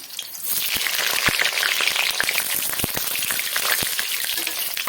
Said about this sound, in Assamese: এতিয়া মই আলুকেইটা ফ্ৰাই কৰি ল'ম